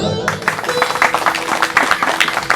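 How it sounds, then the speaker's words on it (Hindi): An audience at a Hindu Bhagavat katha gathering in a village claps in quick, uneven bursts right after a spoken prompt, a lively patter of many hands lasting a couple of seconds. "बजाओ ताली।"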